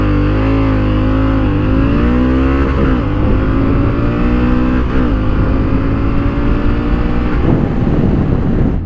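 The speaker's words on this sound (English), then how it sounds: "Let's see how fast I can get to 80 miles an hour." A Honda Africa Twin motorcycle engine pulls hard in a loud continuous run up through the gears toward 80 mph, with rising pitch, brief dips at each shift and heavy wind noise.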